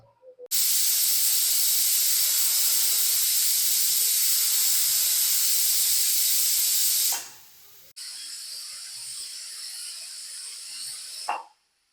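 A pressure cooker full of beef masala lets out a loud, sustained steam whistle and hiss for several seconds, stops briefly, then gives a second, slightly weaker hissing release that ends with a short click.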